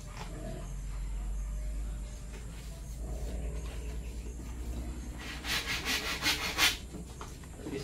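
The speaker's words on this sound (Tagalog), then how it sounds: "So maglalagari ako ng marami ng ganito." Hand saw cuts wood boards for a goat feeding rack with steady back-and-forth rasping strokes, close and continuous, rising to louder strokes near the end.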